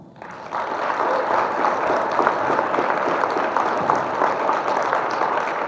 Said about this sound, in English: I hope you give him a very big welcome applause